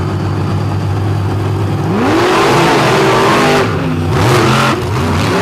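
Monster truck engines roar loudly at the start of an arena race, holding a steady rumble before climbing into rising revs as the trucks launch, with the pitch sweeping up and down.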